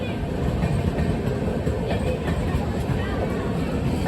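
A train rumbles along at an Amritsar station with a continuous low roar and faint rhythmic clatter, heard from close by as people talk in the background.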